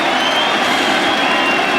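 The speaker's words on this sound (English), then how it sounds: "as the crowd applauds. They go wild." Cricket crowd at Lord's during an England v India Test, applauding and cheering loudly and continuously as a dense wash of clapping fills the ground.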